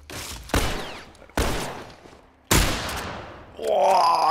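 Gunfire in The Last of Us Remastered on PS5 while fighting off zombies: three loud, separate gunshots with long echoing tails, followed by a sustained tonal rumble of other game sound.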